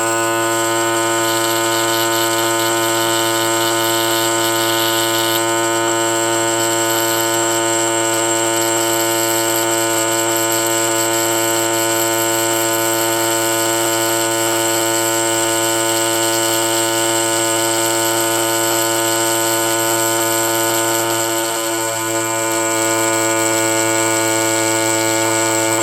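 A power tool polishes fossil sand dollars, Dendraster gibbsii echinoids from Southern California, with a steady, loud, high-pitched whine and buzzing hum that holds unbroken throughout.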